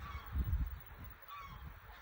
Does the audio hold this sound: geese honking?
yes